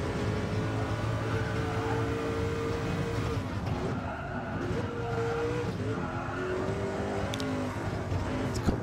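A powerful race car in the Gran Turismo Sport video game drives through a tricky corner section, its engine droning loud and steady throughout with shifting pitch and faint tire noise, alone without talk.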